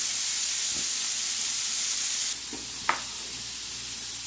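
Meat and onions sizzle steadily in a pan for a keto Philly cheese steak, a continuous close frying hiss with a brief click near the end and no talk.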